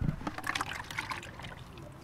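Hardener being poured into a mixing container for a two-to-one primer mix during a bus conversion, a soft steady liquid trickle and splash, faint and close with no talk.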